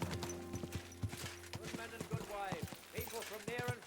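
Rhythmic hoof clip-clops of a horse trotting in the video game Kingdom Come: Deliverance II, with music and a voice speaking over it.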